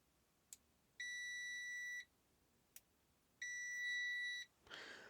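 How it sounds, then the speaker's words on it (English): Two sustained electronic beeps from a multimeter's continuity tester, each about a second long, clear and steady with short clicks before them as the probes touch, in an otherwise quiet setting. "it can take a second or two for the meter to conclude that it is sensing a low resistance and activate the tone"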